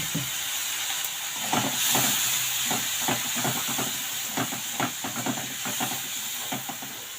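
Water splashed into frying masala for egg curry sets off a loud hissing steam burst, followed by a steady sizzle with many quick scraping stirs of a spoon in the pan.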